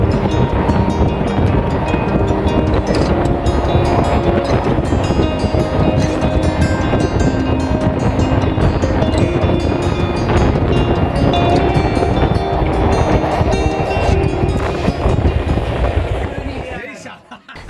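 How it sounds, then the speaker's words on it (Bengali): The Howrah-Barbil Jan Shatabdi Express runs near Kharagpur in India, a loud, continuous rumble of wheels and carriage noise with wind buffeting the microphone, steady throughout before dropping away at the very end. "দেখতে দেখতে আমাদের ট্রেন কিন্তু চলে এলো খড়গপুর স্টেশনে"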